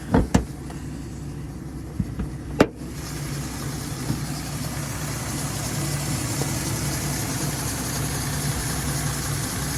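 A 2017 Ford F-150 XL six-cylinder engine idling with a low steady rumble after a few sharp clicks and knocks at the start, outdoors in cold weather.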